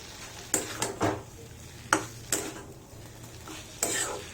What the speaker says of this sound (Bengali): মিশিয়ে নিই, সব স্পাইসেস গুলো ভালো করে মিশে যাক।